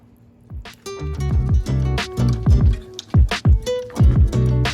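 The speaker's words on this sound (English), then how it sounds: "So let's stir this up, and this will become nice and thick as it cooks down." Chicken penne in a thick white sauce with Parmesan and Dijon mustard is stirred in a pan, giving close, wet squishing and sloshing strokes in steady bursts, with no talking.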